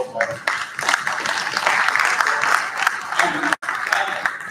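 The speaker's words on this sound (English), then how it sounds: "we should also have a round of applause for them and the back end team" An audience at a tech talent league event in Pune claps in a sustained round of applause, loud and continuous with a brief cut near the end, voices mixed in underneath.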